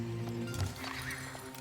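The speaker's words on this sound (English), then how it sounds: "He's got Horse Archers coming up too." Horse archer cavalry gallop in the real-time strategy game Age of Empires IV, a brief, soft clatter of hooves over a steady hum of game ambience.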